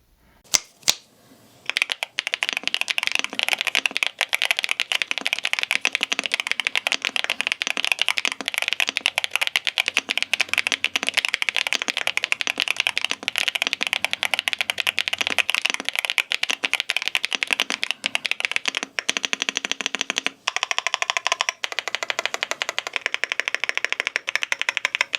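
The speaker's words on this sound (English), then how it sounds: "a sound test of the YUNZII AL68 with the stock pre-looped switches" Continuous fast typing on a YUNZII AL68 mechanical keyboard with stock pre-lubed switches, a dense close-up clatter of keystrokes heard alone for about twenty-five seconds after a few opening taps.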